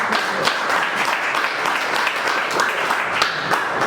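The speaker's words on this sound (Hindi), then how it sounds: "ताली हो जाए।" Audience applause fills a meeting hall of field leaders, a dense steady clatter of many hands clapping together throughout without pause.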